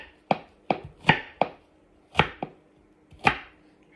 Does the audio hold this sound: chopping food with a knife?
yes